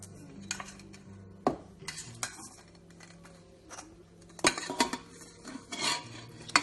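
Metal spoon scrapes and clinks against a pot as mutton is scooped into a pressure cooker, with scattered sharp taps and rasping strokes, fairly close and quiet with no talking.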